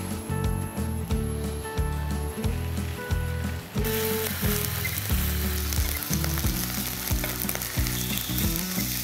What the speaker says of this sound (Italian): non ci rimane che cuocere la carne, quindi andiamo ad aggiungere un filo d'olio in padella